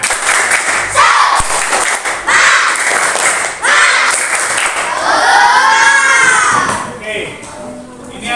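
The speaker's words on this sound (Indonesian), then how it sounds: "mari kita tepuk semangat" A school class claps in quick rhythmic bursts with chanting voices, a lively Indonesian classroom clapping chant close by.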